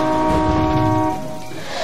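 Tractor horn in the Tractor Tipping video game, a loud steady multi-tone honk held for about a second before cutting off, close and alone.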